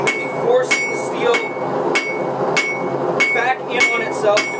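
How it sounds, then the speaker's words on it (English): A hammer striking steel on an anvil while forging a dagger bevel, ringing out in about eight sharp, bright blows at an irregular pace, loud and close with no talk. "I'm going to be taking the hammer and I'm going to be hitting down like this."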